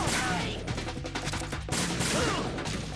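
Dense, rapid bursts of shotgun fire in Metal Gear Solid 2: Sons of Liberty, loud and close, overlapping blasts packed across three seconds of chaotic combat noise.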